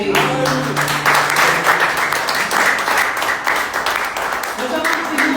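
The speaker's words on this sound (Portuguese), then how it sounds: "Aplaudindo a Jesus mais uma vez." Church congregation applauding during a service, a steady wash of clapping that stays loud throughout, with some voices and sustained tones mixed underneath.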